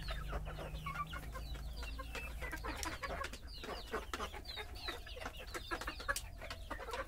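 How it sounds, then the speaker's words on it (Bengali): Desi chickens eating grass outdoors, with soft scattered clucks and short pecking, rustling sounds close by over a low steady hum, quiet and irregular throughout. "এই যে দেশি মুরগি দেখতে পাচ্ছেন।"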